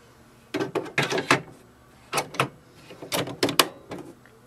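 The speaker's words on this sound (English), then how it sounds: "You will hear a lock sound." An ink cartridge being slid and pushed into an HP Envy Photo 6255 printer, several quick plastic clicks and knocks in short clusters with brief pauses between, close and distinct.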